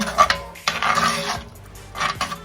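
A spoon scrapes and clinks against a pot in a few quick bursts of stirring, close by, with brief pauses in between.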